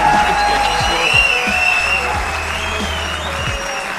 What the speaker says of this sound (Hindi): जोरदार तालियां होनी चाहिए यार।